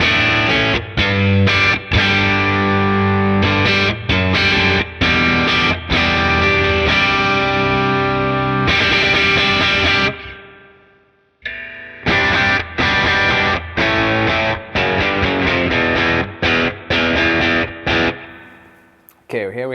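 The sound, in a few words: guitar, tremolo pedal, driven amp, spring reverb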